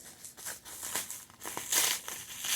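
Sticky plastic packaging mixed with bubble wrap being handled and pulled apart as a new box is unpacked, giving close, uneven bursts of crinkling and crackling that rise and fall over a few seconds without talk.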